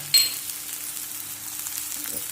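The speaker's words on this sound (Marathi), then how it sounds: "आता कांदा भाजायला लागलाय" Chopped onion fries in oil in a pan, giving a soft, steady sizzle with a brief clink near the start, heard alone without voices.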